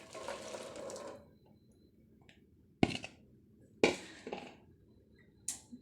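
Small potatoes poured into a wok of water: a rushing splash for about a second, then a pause and a few sharp knocks and clatters, close by.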